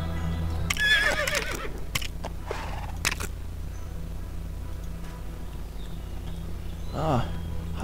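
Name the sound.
horse neighing in the video game Lego Worlds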